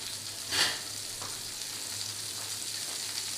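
Melted butter sizzles in a pan as a steady, soft, even hiss, with one brief louder crackle near the start and no voices.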